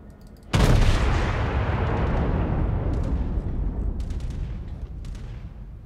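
Main guns of the US battleship North Carolina fire in World of Warships, a sudden loud booming salvo that rolls out into a long, slowly fading rumble with no voices.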